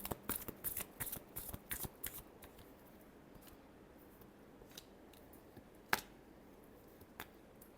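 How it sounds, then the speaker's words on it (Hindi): Tarot cards shuffled by hand in a quick series of crisp riffling slaps for about two seconds, then quieter handling with a sharp card snap near the end, all fairly close and with no talking. "last shuffle"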